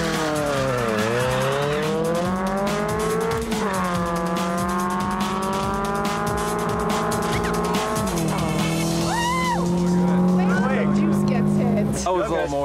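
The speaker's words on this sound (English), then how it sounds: "For the first pass, Mark plans to go easy on the nitrous" A 1994 Dodge Neon race car running on nitrous, its engine loud and close, revving in repeated rising and falling sweeps with brief breaks between pulls.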